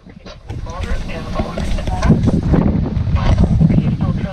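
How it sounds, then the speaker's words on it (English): Wind buffets the microphone on a sailing boat, with a rough low rumble that swells louder after the first half second and stays strong and gusty, and water noise beneath it. "We've finally got some wind."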